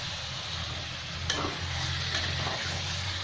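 Chopped tomatoes drop into a pan of chicken biryani masala and are stirred, a steady close sizzle of frying with soft scraping and clinks from the stirring, no voices.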